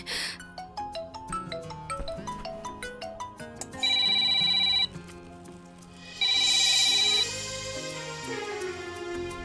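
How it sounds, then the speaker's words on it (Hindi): A phone ringtone plays a repeating electronic melody, with bright sustained tones swelling louder in two bursts. No one speaks. "ये दे फिर होकर फोन आवत है, उठाओ कि नहीं उठाओ?"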